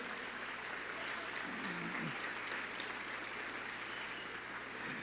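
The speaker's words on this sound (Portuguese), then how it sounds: "pode aplaudir ao Senhor" Congregation applauding the Lord during a Portuguese-language church sermon, a steady, fairly quiet wash of clapping with a low hum underneath and a brief voice-like tone in the middle.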